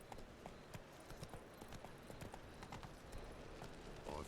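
A horse gallops in the video game The Witcher 3: Wild Hunt, with rapid, continuous hoofbeats at steady volume over a soft background, close and rhythmic throughout.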